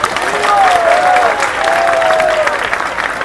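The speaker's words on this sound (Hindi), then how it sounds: "और जोरदार तालियां भी हो जाए थी।" At a Krishna Janmashtami drama gathering, a crowd applauds loudly and continuously, a dense wash of clapping with a voice calling out over it partway through.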